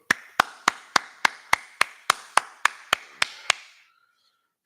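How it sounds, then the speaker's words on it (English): Group clapping in unison at a history class, about a dozen sharp evenly spaced claps at a brisk steady rhythm, close and loud, ending abruptly into near silence. "All right, clap it up."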